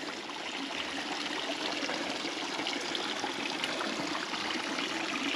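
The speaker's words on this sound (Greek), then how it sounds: "Εδώ, όπως ανέφερα προλίγου, βρίσκεται και η νεροτριβή." Water flows steadily past a traditional water-powered fulling mill, a continuous close rush and trickle that stays even throughout, with no voices.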